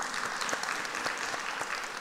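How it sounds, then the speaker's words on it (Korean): Church congregation applauding during a sermon, a steady close wash of many hands clapping with a few sharper claps standing out, no talk. "이럴 때 박수 쳐야 되는 거 아니에요?"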